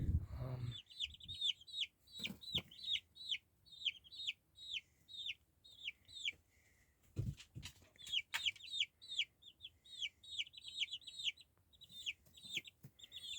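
Young chicks about three weeks old peeping and clucking in rapid clusters, a faint, busy chatter of short chirps with a few soft thumps and brief pauses.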